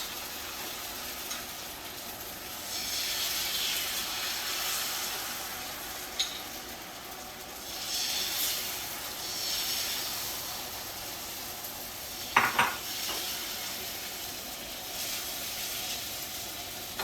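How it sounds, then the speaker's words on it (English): Dosa batter spreads and fries on a non-stick pan with a continuous soft sizzling hiss that swells and fades in waves, plus a brief sharp scrape or tap near the end, no voices. "you place it on the non-stick pan, and then you just fry and spread it out"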